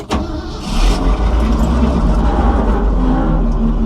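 The engine of a 1967 Ford F600 truck catches after a brief crank and settles into a loud, steady, close rumbling idle.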